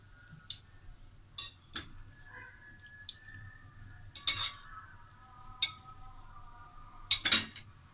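Peeled, sliced peppers are set onto a baking tray for Egyptian eggplant moussaka, giving scattered light metallic clinks and taps spaced apart in a quiet room.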